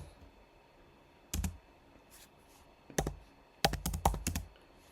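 Short bursts of typing on a computer keyboard in a Linux terminal, quick clusters of crisp key clicks separated by pauses, close and clear against a quiet background.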